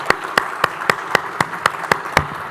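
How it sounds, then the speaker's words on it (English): Hands clap in a sharp, evenly spaced rhythm, about four claps a second, close and distinct, at the close of a sustainability summit session. "A hand of applause, please."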